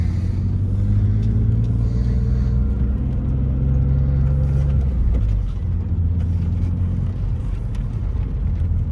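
Engine of a 1999 BMW Z3 M Coupe idling on a cold New Jersey day just after starting, a steady deep rumble with a slight rise and dip in revs midway, close and continuous with no voices.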